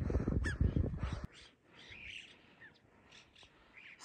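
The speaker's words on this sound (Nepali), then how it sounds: "सानो चरा पनि रहेछ यहाँ।" Small bird calling at Khare, around 4900 metres altitude on the Mera Peak trek in Nepal, several faint chirps scattered at a distance after a short burst of louder noise at the start.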